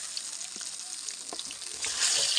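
Siding fish frying crisp in hot oil, a steady close sizzle with faint crackles that swells louder near the end, no voices.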